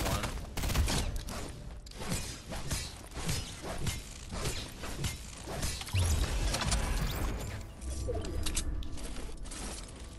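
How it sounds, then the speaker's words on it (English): Shotgun fire in a multiplayer shooter video game: repeated sharp blasts and thuds with mechanical clatter, dense and close throughout, mixed with other game effects. "What's that? A shotgun?"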